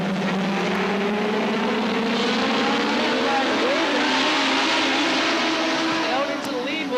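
Dwarf race cars roar around the oval at Star Speedway in a dwarf car feature, a dense, continuous engine drone with rising and falling pitches as cars pass, steady and loud throughout.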